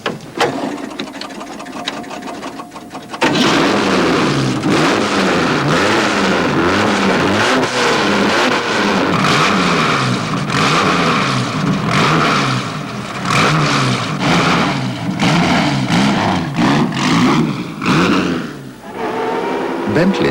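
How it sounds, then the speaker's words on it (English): A classic Bentley engine starts and then runs steadily with loud, continuous revving that rises and falls, close by. "The adventure starts just starting the car up."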